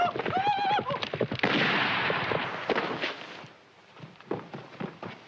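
A horse whinnies loudly near the start, followed by scuffling hooves and commotion fading to quieter rustling.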